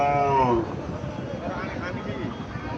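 A cow lows at a rural cattle market, a single drawn-out moo near the start over a murmur of market chatter and background voices.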